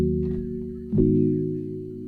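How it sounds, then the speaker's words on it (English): Synthesizer preset called Secret Dawn plays sustained chords in a warm low-mid register, holding one chord, then shifting to another around the midpoint and letting it ring, alone and fairly soft. "we are going to use this sound right here called Secret Dawn"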